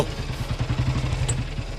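Motorcycle engine running close by, a continuous low pulsing throb with rapid rhythmic beats and steady loudness throughout the short stretch, with no voices.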